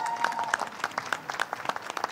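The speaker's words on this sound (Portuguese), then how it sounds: "pedir uma salva de palmas para essa equipe maravilhosa" Brief applause from an audience at a Minas Digital program presentation panel, honoring the team, scattered claps, moderately loud and close, over about two seconds with no speech.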